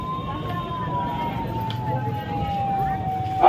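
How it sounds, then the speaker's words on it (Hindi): An ambulance siren wails steadily at a street protest by opposition alliance leaders and workers, a sustained tone slowly gliding lower over a busy outdoor crowd rumble, with a sharp burst at the end. "लाश वाली गाड़ी एम्बुलेंस है।"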